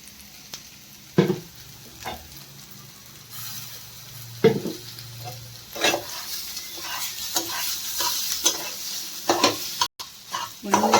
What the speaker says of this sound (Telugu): బాగా ఫ్రై కావాలి ఇంకా కొంచెం నెయ్యి పడుతుంది